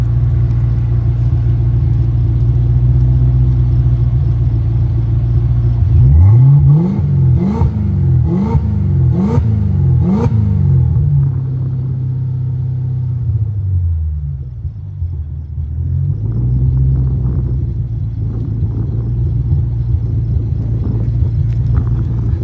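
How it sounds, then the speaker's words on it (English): A supercharged Coyote V8 swapped into an SN95 Mustang idles with a deep exhaust rumble, then blips the throttle in five quick revs before settling back to a lumpy idle. "record this exhaust."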